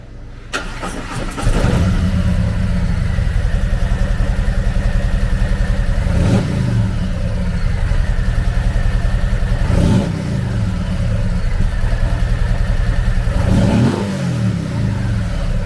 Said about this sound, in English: the Street Glide is powered by a 117 cubic inch V-twin motor